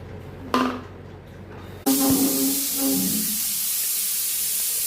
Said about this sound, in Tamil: குக்கர் அதை விசில் விடுது.